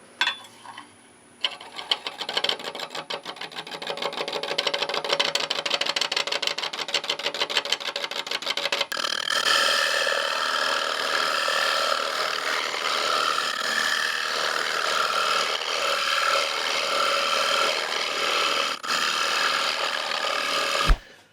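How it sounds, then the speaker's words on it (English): A dedicated shear scraper rubs across a rough wooden bowl spinning on a lathe at about 390 RPM, giving a continuous close scraping rasp that starts after a brief quiet moment and runs steadily to the end. "dedicated shear scraper tool, and try and smooth this out"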